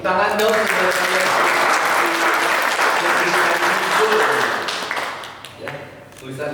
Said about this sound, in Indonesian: Tepuk tangan dong saudara sekalian.